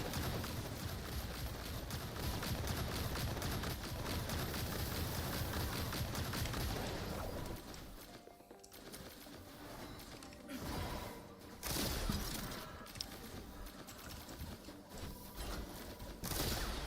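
Lynn's turret mode firing in Duet Night Abyss video game, a dense, continuous rattle of rapid shots that drops out abruptly midway, then returns in shorter bursts among quieter gaps, with no voices.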